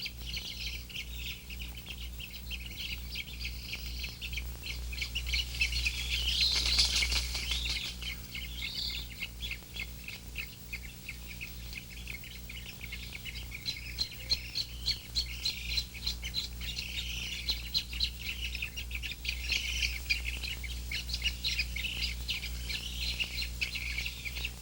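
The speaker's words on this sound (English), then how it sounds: "In all wading bird colonies, there is constant bickering." Colony of spoonbills and other wading birds in mangroves on an island in the Everglades, calling continuously in a dense chorus of chirps and squawks, with bursts of wing flapping over a low steady background rumble.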